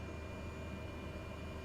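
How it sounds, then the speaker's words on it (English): Airplane systems powering up in a flight simulator game, a steady, faint broadband whir and hum with no change in level. "See the airplane start coming to life."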